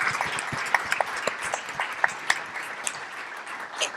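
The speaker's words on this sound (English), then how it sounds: "let's give you a round of applause" Scattered applause at an annual law school Supreme Court review event, sparse individual claps ringing out unevenly in a room, fairly light and thin rather than a full ovation.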